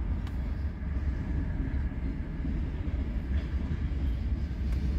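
Union Pacific freight cars, including tank and lumber cars, are shoved through Hobson Yard in Lincoln, Nebraska, with a constant low rumble and faint metallic ticks close by, steady throughout.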